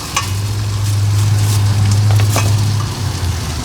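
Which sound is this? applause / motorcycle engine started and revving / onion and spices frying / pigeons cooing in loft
onion and spices frying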